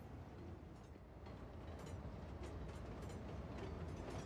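Train running in Cities Skylines 2, a continuous rumbling roll with soft clacking of wheels, steady and moderately close, no voices.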